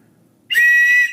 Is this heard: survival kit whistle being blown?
yes